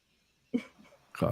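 A single short cough bursts out close by, followed a moment later by a louder burst of voice or another cough.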